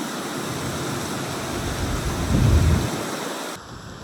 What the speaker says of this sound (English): It's torrential rain and a thunderstorm.